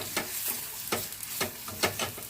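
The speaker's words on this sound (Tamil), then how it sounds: "இப்போ கொஞ்சமாக மஞ்சள் தூள் போட்டு நல்லா வதக்கிட்டு" Yellow pumpkin stir-frying with turmeric powder in a pan, a low sizzle broken by four sharp scraping stirs of a spatula at a steady pace, close up with no speech.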